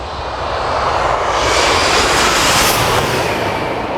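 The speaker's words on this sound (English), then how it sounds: "What a behemoth of an airplane" Boeing 787 airliner landing, its jet engines a loud, steady roar that swells slightly midway and stays broad and continuous throughout, with no voices over it.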